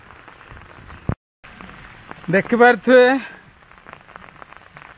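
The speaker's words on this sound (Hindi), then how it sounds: "ये बारिश ज़्यादा हो रहा है" Heavy rain falls steadily over a village, a continuous broadband wash heard throughout, with a brief dropout and a short burst of speech in the middle.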